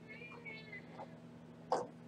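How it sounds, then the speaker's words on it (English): Faint, thin screeching cries waver from a distance, followed by a brief sharper shriek, against a low steady hum. "You hear screeching coming from down the street."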